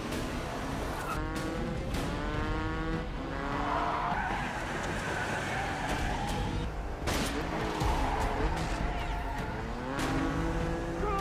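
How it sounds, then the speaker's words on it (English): Loud film motorcycle chase with roaring engines and repeated squealing, skidding tires, continuous and close, with no talking. "In the end, Charlie makes an escape with his motorcycle, while Tony's men go after him."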